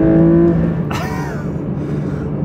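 Porsche 911 S/T launching hard with lots of wheelspin, a loud engine rev climbing in pitch and then settling into a steady roar, heard from inside the car.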